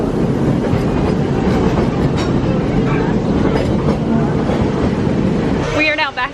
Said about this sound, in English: We just got off the train